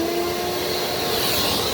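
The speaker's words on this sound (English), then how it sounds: "got my shop vac out" A shop vac running steadily close by, a loud continuous motor whine and airflow roar that holds even throughout with no breaks.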